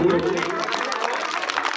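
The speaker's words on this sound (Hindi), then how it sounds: "जोरदार ताली बजाएं, बच्चों की हौसला अफजाई होगी।" Audience applause at a program at Nadwi Public School, Hariabara, a dense, steady wash of many hands clapping, with a voice briefly audible at the start.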